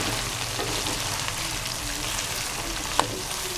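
Continuous sizzling and crackling of ginger and garlic frying in hot oil, steady and close, with a single small clink near the end.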